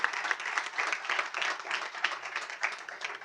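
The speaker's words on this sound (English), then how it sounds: "How about a big round of applause for all of our" Applause from a school board of education meeting audience, a moderately full burst of clapping with uneven swells and dips, heard at modest volume with no voices on top.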